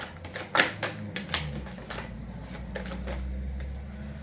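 Tarot cards being shuffled and drawn, a close series of soft riffling flicks and snaps followed by a quieter stretch of sliding card noise, with no one talking.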